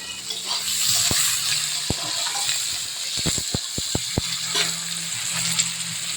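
Onion and torn green chillies frying in spiced oil in a pan, with a steady loud sizzle punctuated by sharp clicks of a spatula against the pan and no talk.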